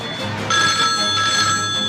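A telephone bell rings in a steady trilling pattern, loud and close, sustained for about two seconds with a brief swell partway through, alone with no talk over it.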